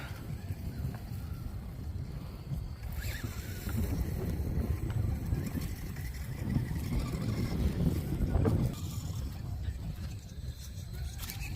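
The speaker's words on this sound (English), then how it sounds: "A little windy." Wind blows steadily outdoors on a walk, a continuous low rumbling buffet against the microphone that swells and eases over about eleven seconds.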